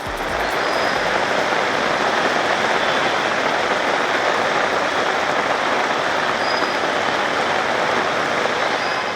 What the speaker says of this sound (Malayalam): സംസ്ഥാനത്ത് പെയ്യുന്നത് അതിശക്തമായ മഴ.